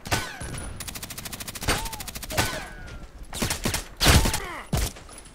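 Rapid automatic sniper rifle fire in the first-person shooter Contract Wars, a fast run of sharp shots followed by several separate loud cracks, with game ambience between the bursts.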